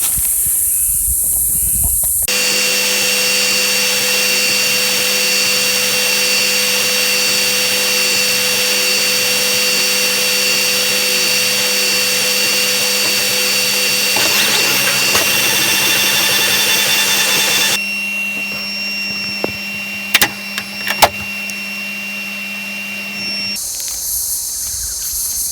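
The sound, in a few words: drilling a small hole in a plastic grow pod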